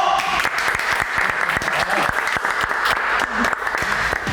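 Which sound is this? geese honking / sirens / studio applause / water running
studio applause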